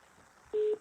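A single steady telephone tone sounds after a call is cut off, a short clear beep standing out over a faint background hiss.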